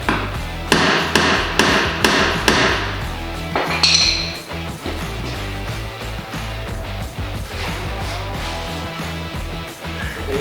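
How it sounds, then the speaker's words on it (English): Hammer striking a stuck bolt, a rapid series of sharp loud metallic blows at the start, then a steadier run of lighter taps and clinks continuing to the end. "Take the hammer."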